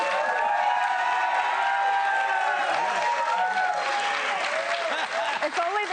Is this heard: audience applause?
yes